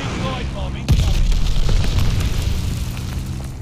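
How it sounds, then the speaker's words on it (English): A sudden heavy boom from a glide bomb striking in the video game Arms Race, followed by a rumbling, crackling roar that lingers and slowly fades, with a game voice just before the blast. "Enemy glide bomb incoming."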